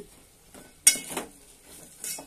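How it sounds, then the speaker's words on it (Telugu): Cluster beans stirred into a frying pan, a few brief scraping and clinking strokes of a spatula against the pan with one sharper metallic clink, faint sizzle underneath. "వేయించుకున్న తర్వాత గోరుచిక్కులు వేసుకొని బాగా కలుపుకొని"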